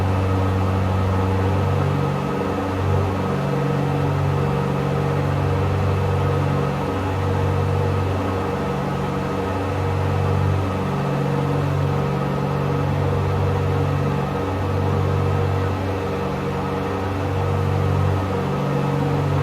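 A simulated aircraft engine drones steadily from a flight simulator cockpit, a continuous low hum with a regular pulsing beat that runs unbroken throughout with no talking.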